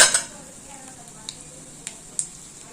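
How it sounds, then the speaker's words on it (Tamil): Cumin, asafoetida and crushed pepper crackle in hot oil, giving a soft sizzle with a few faint pops and light clinks of a utensil against the pan. "எண்ணெய் ஹீட் ஆகிடுச்சு. இந்த ஸ்டேஜில் நம்ம பெருங்காயமும் ஜீரகமும் போட்டுக்கலாம்."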